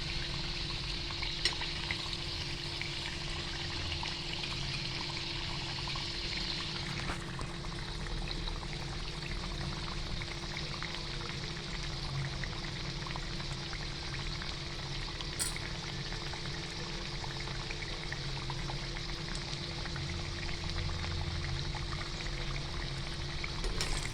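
Pinwheel samosas frying in hot oil make a steady, even bubbling sizzle that carries on throughout at moderate loudness, with a few faint clinks and no voices.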